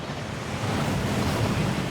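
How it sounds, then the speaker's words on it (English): A rushing waterfall inside a Gringotts vault in Hogwarts Legacy, a steady broadband roar of pouring water that swells slightly partway through, with no voices. "That waterfall washes away all enchantments."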